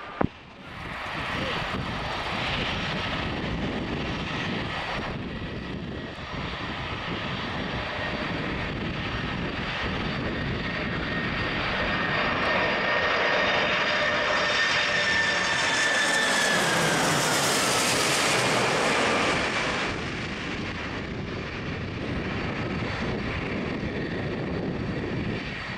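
A Bahrain Royal Flight Boeing 747-400 lands at Geneva, its jet engines roaring loud and steady, then swelling into a powerful rumbling, whining peak before easing off.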